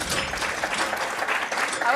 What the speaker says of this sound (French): Tu te fais applaudir, quoi.